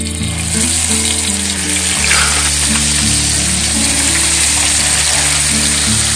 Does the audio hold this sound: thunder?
no